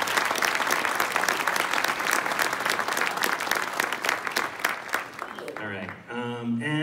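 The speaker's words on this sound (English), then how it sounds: "Let's give the friends and family a big round of applause for supporting you on this journey" Sustained applause from the crowd at a coding course graduation ceremony, steady dense clapping that runs for several seconds before a voice starts speaking near the end.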